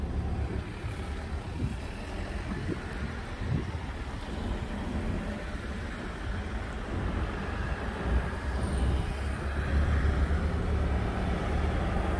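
Street traffic in Den Helder, a steady low rumble of passing vehicles with engine drone swelling toward the end, heard alone without talk.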